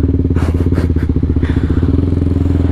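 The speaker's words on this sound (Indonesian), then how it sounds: "Pantesan gak kedengeran ya, soalnya ini pakai knalpot STD katanya." A motorcycle with a stock exhaust idles close by, giving a loud, steady, throbbing engine note throughout, with brief voices in the background.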